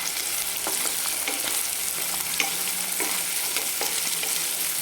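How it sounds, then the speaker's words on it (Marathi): Finely chopped onions for chicken masala sauté over high flame with a dense, continuous sizzle. Frequent light stirring scrapes break through at close range, with no voices. "दोन मोठे कांदे असे बारीक कट केलेले आहेत ते टाकून घेणार आहे आणि ते पण छान आपण परतून घेणार आहे"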